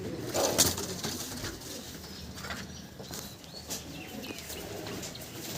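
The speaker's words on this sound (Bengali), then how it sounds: "এই যে দেখুন পায়রা" Teddy pigeons coo softly in a loft, with low murmuring calls and a brief flutter of wings near the start, set against a faint background hum.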